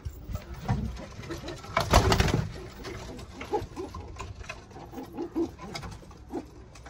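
Pigeons in their loft coo softly and shuffle about, with a brief burst of wing flapping partway through and light scratchy pattering, all fairly faint and close.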